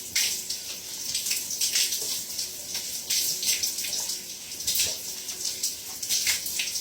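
Running water from a tap pours steadily over hair to rinse out dye, a close, continuous splashing gush with pulsing variations as the water hits the head.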